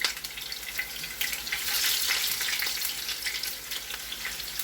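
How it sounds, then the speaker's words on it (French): Slices from two onions drop into hot oil for a paneer biryani, giving a steady, close sizzling crackle with bursts of spitting that swell and settle. "Mon huile est chaude. Donc, je vais séparer les oignons et les mettre."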